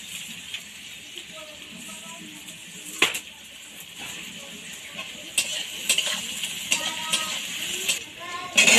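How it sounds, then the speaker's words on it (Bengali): Garlic paste and onion fry together in a pan with a faint hissing sizzle, punctuated by occasional clinks and scrapes of stirring, while a voice talks over it. "রসুন বাটা এই ভালোভাবে রসুন পেঁয়াজের সাথে মিশিয়ে ভালোভাবে ভেজে নিচ্ছি"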